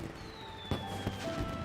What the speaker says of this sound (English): Oh, that's the firework they put together.